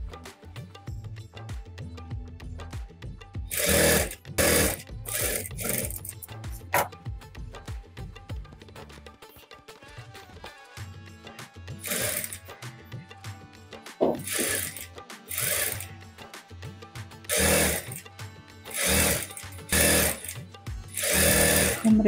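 A sewing machine stitches lining onto a safari collar in bursts of rapid, close mechanical chattering, separated by quieter pauses with faint handling sounds.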